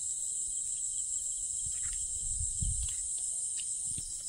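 Crickets chirping at night in a quiet rural setting, a continuous high shrill trill holding steady throughout, with faint low rustles and soft thumps nearby.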